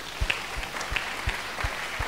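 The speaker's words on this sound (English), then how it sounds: "Clap for Jesus." Congregation clapping during a church prosperity service, a faint rhythmic beat of hand claps in a steady pulse with some room noise, fairly quiet overall.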